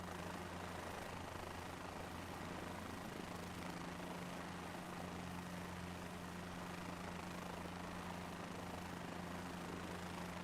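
Helicopter in Microsoft Flight Simulator 2024 flying in a traffic pattern around 500 feet, a steady droning rotor and engine hum with a low tonal whine, continuous and even throughout with no voices.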